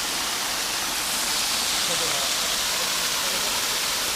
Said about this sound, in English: this is a spring, so it runs all year round